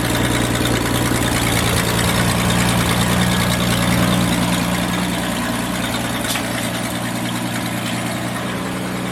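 1966 Ford Mustang engine idling steadily after a mechanical fuel pump replacement, a continuous loud low rumble with an even throb and no other sounds.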